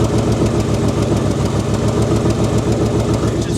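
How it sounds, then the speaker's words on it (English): A Ford Mustang engine idles with an exhaust leak at the headers, giving a steady rhythmic puttering and ticking pulse, loud and close throughout. "You can hear that exhaust leak in the front."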